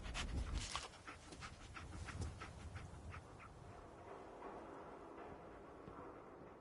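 Dogmeat, the canine companion in Fallout 4, pants rapidly and steadily up close, quick rhythmic breaths over faint game ambience, with no talking.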